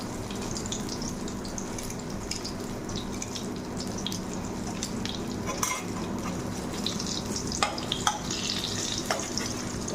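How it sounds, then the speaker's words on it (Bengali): Pointed gourd (potol) fries in oil in a pan, giving a steady low sizzle with occasional scraping stir strokes and light clinks, no talking. "পটলটাকে আমি লাল করে ভেজে নেবো প্রথমে"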